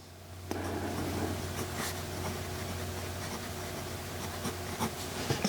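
A Jinhao 20 fountain pen scratches across paper close up, faint, dry strokes and short scribbles that come in small bursts with brief pauses between them.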